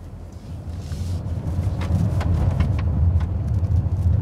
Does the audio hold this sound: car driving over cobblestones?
yes